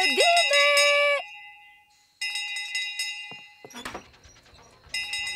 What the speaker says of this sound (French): La cloche! La cloche!